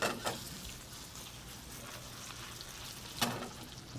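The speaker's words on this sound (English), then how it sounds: "Caramelize that a little bit more." Onions caramelize in a pan in a restaurant kitchen, giving off a faint, steady sizzle broken by two brief louder crackling bursts.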